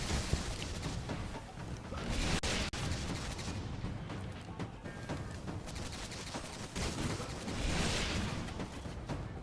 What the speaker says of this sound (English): this is a legendary freaking scout rifle